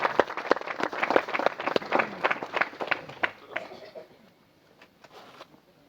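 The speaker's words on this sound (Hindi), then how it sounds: "हम इसके लिए तालियां बजाते हैं।" Church congregation clapping together in a steady burst of applause, dense and fairly close at first, then thinning out and fading to a few scattered claps.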